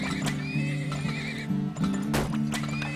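Horses in the video game Turmoil neigh with loud, repeated whinnies over a steady background of hoof clip-clop and game music, with no talk.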